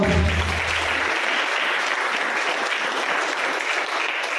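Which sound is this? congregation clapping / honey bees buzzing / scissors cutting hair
congregation clapping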